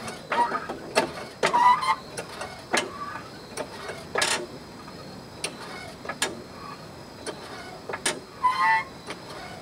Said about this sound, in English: So now you'll see how a rapid pump jack will lift your vehicle up quicker.